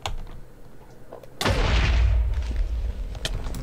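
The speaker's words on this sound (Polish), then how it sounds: "Uwaga, rozsadzam." Minecraft explosion with a sudden loud boom that rolls into a sustained rumbling blast, preceded by quieter game sounds and a few faint clicks.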